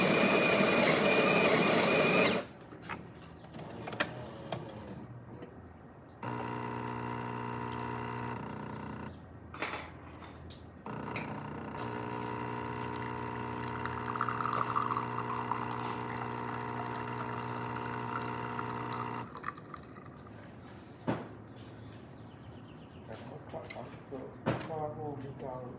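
A Jura XJ9 espresso machine brewing a shot: a steady mechanical pump hum with layered tonal whine runs for long stretches, broken by brief clicks and pauses, loud and close with no talk.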